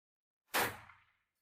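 A single sharp gunshot from a Beretta 950 pistol cracks out and decays quickly, close by, with no other sound around it.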